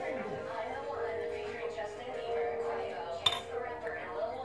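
Metal utensil scraping and clinking against a pot while scooping food in a keto kitchen, light rattles under steady talking, with one sharp clink near the end.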